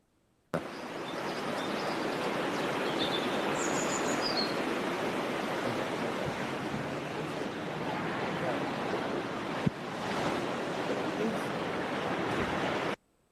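Recorded sea waves wash in a steady broadband roar from start to finish, a continuous surf sound with no gaps, played back for a class on ancient Greece and the sea.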